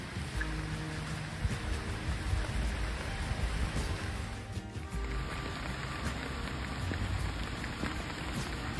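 Steady rain falls across the city of Bergen on a windy autumn day, a dense, even hiss of drops on surfaces with no breaks, heard alone without talk.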